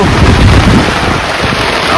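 Heavy pre-monsoon rain lashes down around a shepherds' camp in rural Maharashtra, a loud, dense, unbroken roar close to the microphone.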